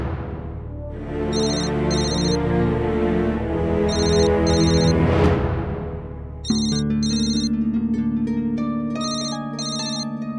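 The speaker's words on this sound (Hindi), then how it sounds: "फोन आ गया, लगता है भैया कहीं होगा" A telephone ringtone plays loud and close, a melodic electronic ring repeating in short phrases for about ten seconds with no talking over it.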